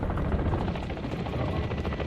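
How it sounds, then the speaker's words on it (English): An AI-controlled attack helicopter in a Call of Duty match, its rotor thudding loud and steady throughout with a dense, close mechanical roar and no talk. "That chopper is a AI chopper that essentially is going to try to kill us."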